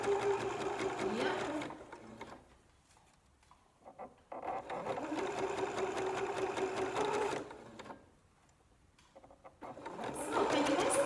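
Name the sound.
sewing machine backstitching a t-shirt bralette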